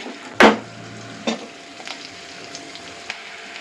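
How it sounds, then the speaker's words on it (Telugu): Chopped onion pieces hit hot oil in a pan for potato egg curry with a sharp burst of sizzle, then a quieter frying hiss follows with a few light stirring taps and crackles. "ఇప్పుడు ఇందులో ఉల్లిపాయ ముక్కలు వేస్తున్నాను"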